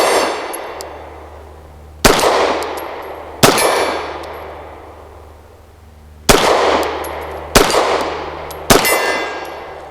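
Five sharp metallic clangs ring out at irregular intervals as rounds strike a 6-inch steel spinner target far downrange, each hit bright and ringing before decaying over a low steady hum.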